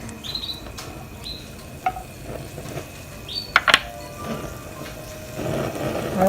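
Crushed garlic sizzles in a pan for a steak and ale chowder, a soft steady fry punctuated by a few sharp utensil clinks and taps, growing slightly louder toward the end, without talk.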